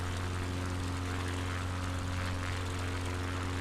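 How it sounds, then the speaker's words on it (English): Propeller aeroplane flying over the Patagonia bush in Microsoft Flight Simulator, a steady, droning engine hum with a strong low tonal whine, loud and constant throughout. "With a noisy aeroplane flying through it."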